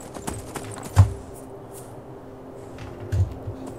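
A few soft horse hoof clops in Skyrim land sparsely over a quiet background hum, with a faint sustained tone underneath.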